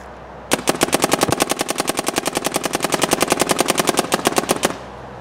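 A Dye M3+ paintball marker firing small paintballs in one long, rapid burst: roughly forty sharp, evenly spaced pops over about four seconds, loud and close, ending abruptly with no voices.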